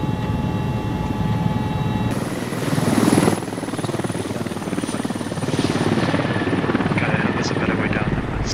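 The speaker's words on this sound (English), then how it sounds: "I had suspicions that the helicopter might attract unnecessary attention." Helicopter flying in the Squad video game over a forested Finland map, a steady loud rotor drone with a whining engine tone throughout, swelling slightly at times.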